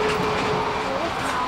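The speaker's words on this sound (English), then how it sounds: "Train ride's almost over." A passenger train rolls along the rails with a steady, close rumble and a faint high wheel squeal throughout a brief stretch.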